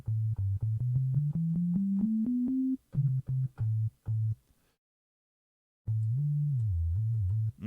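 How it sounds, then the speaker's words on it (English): A basic synth sine-wave tone plays as a string of short pulses that step upward in pitch, then several steady repeated beeps, a brief silence, and a longer gliding tone that wavers up and down, clean and alone. "I don't want just a basic sine wave though."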